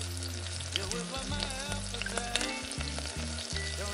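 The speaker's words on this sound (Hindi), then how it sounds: "दो मिनट तक देखिए बेसन को भी डाल के हमने भून लिया है" Gram flour (besan) being roasted with green peas in a pan in a little oil for a snack, a soft steady sizzle with scraping stir strokes, fairly quiet.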